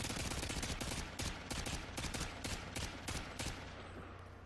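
Rapid bursts of automatic gunfire in Modern Warfare 2 on the Terminal map, shooting through a thin wall panel, loud sharp shots in quick repeated volleys with short gaps.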